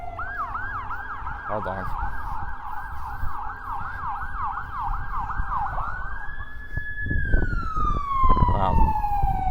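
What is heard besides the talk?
siren passing by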